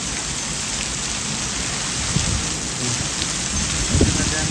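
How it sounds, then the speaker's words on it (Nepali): A hailstorm with rain in Abilene gives a dense, continuous roar of falling water and ice. A few sharper, louder impacts stand out near the end. "अनि यो असिना आयो है, यो असिना"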